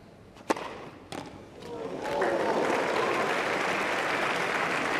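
A sharp thud of a tennis ball struck on a serve at a junior final, followed moments later by a rising swell of crowd applause and murmuring that carries on steadily to the end.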